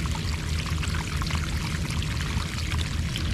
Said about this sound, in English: look how much water comes out of that ground from that French drain.